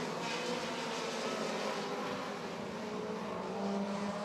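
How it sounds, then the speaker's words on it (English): Short track race cars at Rockford Speedway drone as a steady, blended engine roar, several cars circling together at a distance with a constant hum and no break, no voices over it. "Evank and Erickson in that 98 and 68 continue to drive hard."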